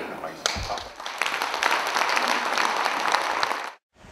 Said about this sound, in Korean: 우리 다 같이 자기 자신을 위해서 박수 치면서 아침 인사에 올라가겠습니다.